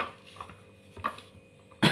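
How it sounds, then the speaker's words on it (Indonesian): A single short cough bursts out near the end during cooking, after a few faint kitchen knocks from chopping garlic, close and fairly loud against a quiet background. "Maaf saya batuk."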